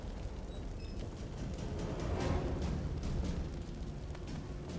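A steady, dense roar of fire burning in the fantasy role-playing game Divinity: Original Sin II, close and fairly loud, with scattered crackles and pops running through a continuous low rumble and no voices over it.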